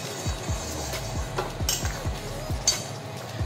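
A paneer curry of chickpeas and paneer is stirred in a pan over a medium flame. A spoon scrapes and clinks against the metal in a steady rhythm of short strokes, close by and fairly soft.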